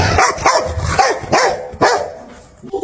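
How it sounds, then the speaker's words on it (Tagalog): A dog barks repeatedly, about four loud, sharp barks in an uneven rhythm, close by with no other sounds. "ang pagtahol ng aso"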